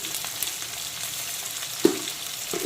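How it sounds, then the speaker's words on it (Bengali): Chopped onion fries over low to medium heat for a spicy mutton curry, a steady close sizzle with a sharp clatter of stirring partway through and another scrape near the end. "এখন বেশ কিছুক্ষণ লো টু মিডিয়াম আঁচে অল্টারনেট করে করে পেঁয়াজ কুচিটাকে কিছুক্ষণ ভেজে নেব।"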